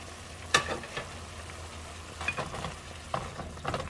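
Mushrooms and shrimps tossed into a wok of mixed vegetables stir-frying in oyster sauce, with a sharp clack of the spatula followed by soft scraping and stirring strokes over a low sizzle.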